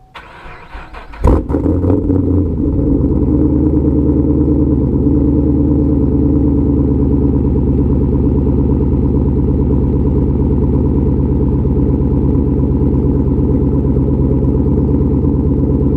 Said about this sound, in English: without a Camaro cold start